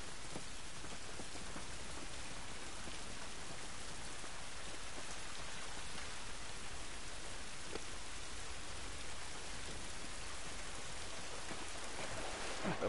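Steady rain pours in the post-apocalyptic game The Last of Us, a dense, even hiss of drops on surfaces that holds constant and fairly loud throughout, with no voices.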